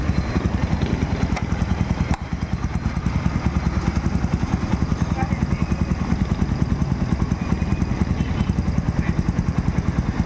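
A motorcycle engine idles steadily close by, a rapid, even chugging throb that continues without pause throughout.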